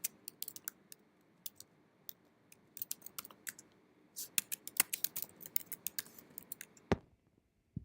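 Login credentials are typed on a computer keyboard as quick, close, fairly quiet key clicks in irregular bursts, ending with a firmer keystroke.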